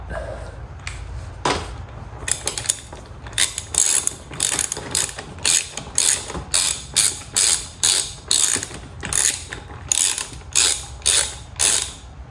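Rapid ratchet clicks in regular bursts while tightening the wheel nut on a vintage go kart, close and clear with a steady rhythm and no talking.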